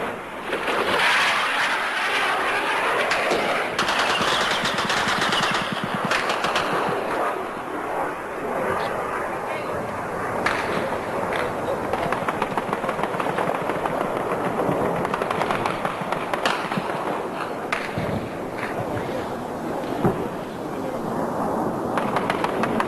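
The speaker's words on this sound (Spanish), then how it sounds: "Contestan nuestras baterías antiaéreas y se ve el refulgir de sus disparos en el aire." Continuous dense rattle of rapid anti-aircraft battery gunfire mixed with a droning aircraft engine, loud and sustained without pause.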